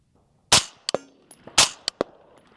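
A Griffin Armament HRT 556 rifle fired at 100 yards: two sharp, loud shots about a second apart, each followed by a faint metallic ring of the steel target and a short echo.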